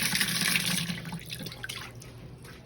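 Tap water runs steadily into a basin while a newly hatched chick is washed, a close, soft splashing stream with a few small drips near the end.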